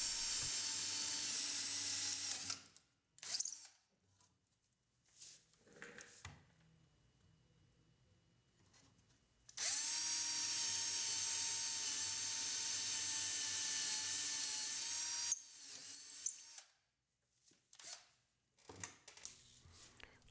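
A power drill bores holes through a white oak crate backed by a wood strip, in two long, loud whining bursts separated by quieter handling noises and small knocks.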